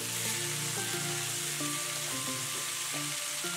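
Mixed vegetables of carrot, beans and potato sizzle and crackle in a hot kadai, a loud continuous frying hiss with occasional stirring scrapes.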